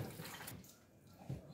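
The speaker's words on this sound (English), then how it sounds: "Then I pour in more water." Water is poured over peeled beans in a sieve, a soft, quiet splashing gush that runs steadily for a moment before another small splash.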